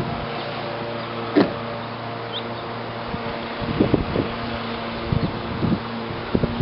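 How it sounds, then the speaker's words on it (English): Steady wind buffeting an upstairs roof deck above a concrete tile roof near the beach, a constant rushing noise with a few soft knocks and thumps. "A little breezy today."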